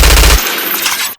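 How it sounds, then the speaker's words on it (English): Layered dubstep machine gun sound built from Serum synth and samples: a dense, loud burst of rapid-fire hits with heavy low thump at first, thinning into a gritty rattling tail before cutting off abruptly. "Let's take a look at these tiny machine gun sounds."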